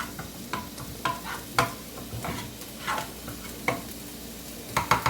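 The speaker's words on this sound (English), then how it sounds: "We'll get this stirred around because we just want to cook out the flour taste" Flour is stirred into butter for a roux in a pan, with a soft steady sizzle beneath repeated scraping stirs at an uneven rhythm, close and moderately quiet, and a few words spoken briefly.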